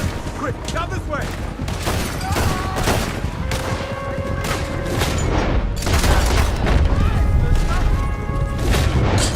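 Rapid pistol gunfire in Red Dead Redemption 2, a dense barrage of sharp cracking shots and booms firing almost without pause, loud and close over game music tones and ambient noise.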